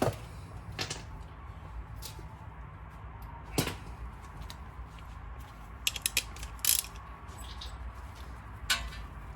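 A ratchet wrench tightens brake bolts on a 2016 Toyota Highlander, with scattered sharp clicks and short bursts of ratcheting over a quiet background.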